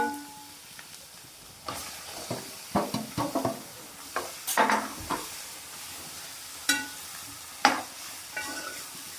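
Chicken frying in a pan with turmeric, a steady sizzle with intermittent stirring scrapes and clinks of a utensil against the pan, close up and fairly quiet.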